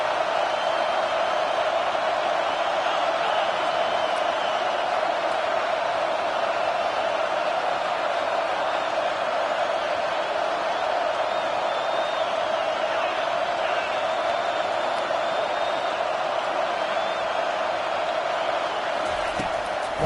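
A packed college football stadium crowd at Utah versus Michigan keeps up a loud, steady roar for the full stretch of play, with no break or lull.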